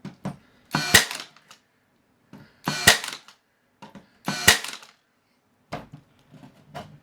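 Ridgid Hyperdrive 18-volt 18-gauge brad nailer driving nails into wood, three sharp close firing bursts about 1.5 seconds apart, followed by softer handling clatter.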